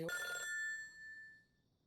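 A telephone bell rings once in an anime horror series (Higurashi: When They Cry), a short bright ring that decays into a lingering tone, heard alone and fairly faint.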